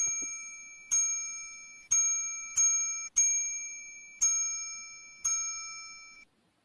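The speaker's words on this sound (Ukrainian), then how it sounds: "Трикутник, молодці." A triangle is struck about seven times at uneven intervals, each strike ringing out bright and metallic before the next, fading away at the end.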